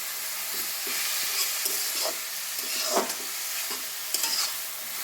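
Cabbage bhaji sizzling in a pan while a spatula stirs it, a continuous close frying hiss broken by several scraping stir strokes.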